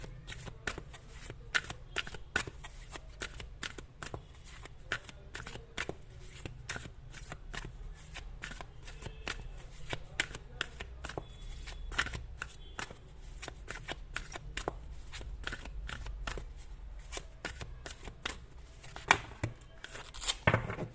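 Tarot cards are shuffled by hand in quick, soft, papery riffles that repeat steadily for about twenty seconds, quiet and close, with no talking.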